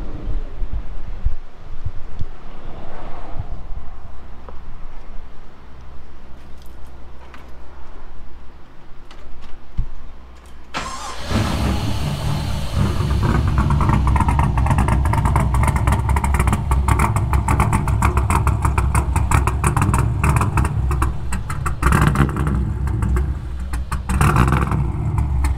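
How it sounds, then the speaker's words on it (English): A BMW E36 with a swapped LS V8 and a big cam idles with a loud, lumpy, choppy rhythm, the engine firing up partway through and then loping heavily and close for the rest of the clip. "let's hear this thing idle before we take it apart again."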